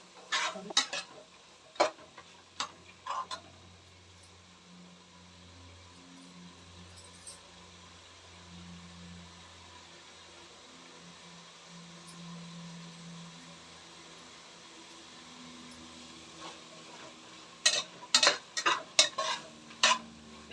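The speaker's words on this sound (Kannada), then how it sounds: "ಎಣ್ಣೆಗೆ ಚೆನ್ನಾಗಿ ಅದು ಫ್ರೈ ಆಗಬೇಕು" Masala for fenugreek leaf rice bath fries in oil in a pan, a low steady sizzle under repeated clinks and scrapes of a spoon stirring against metal, busier at the start and again near the end.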